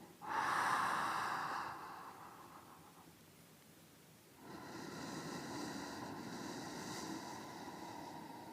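Slow, deep breathing during a yoga pose: a long, airy inhale close to the ear, a quiet pause, then a steady, extended exhale, with no talking.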